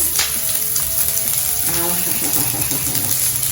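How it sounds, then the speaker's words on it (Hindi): Chopped onion drops into a hot pan for masoor dal kachori filling and starts frying, a constant loud sizzle with some stirring and a brief clink, close by, with little else. "मैं ऐड करूंगी इसमें अनियन, चॉप किया हुआ प्याज।"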